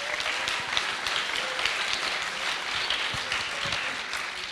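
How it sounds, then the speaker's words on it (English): Sustained applause from a conference audience cheering prize winners at a hackathon closing ceremony, dense steady clapping filling the room at a constant level with no speech. "please give all the prize winners a round of applause"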